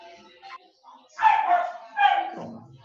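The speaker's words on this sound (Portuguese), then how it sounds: "Tem um cachorro latindo." A dog at home gives a few sharp barks and yips, two louder barks standing out close to the microphone, with quieter whimpering sounds between them.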